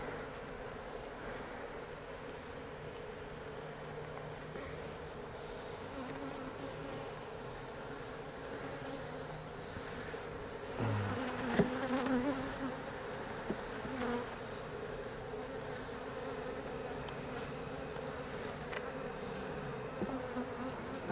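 Honey bees buzz steadily around an open hive with frames being moved, a dense continuous drone that stays even and close throughout, with occasional faint knocks.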